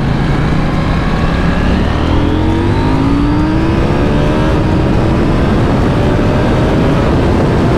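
A KTM 790 motorcycle in sports mode accelerates hard at full power, its engine note climbing in rising sweeps, loud and close, with steady wind and road roar throughout.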